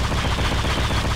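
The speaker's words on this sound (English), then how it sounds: "Incoming missile. Shield failed." Incoming missile fire in the space combat game Freelancer: a loud, dense burst of explosive gunfire-like impacts packed tightly together, with no spoken voices.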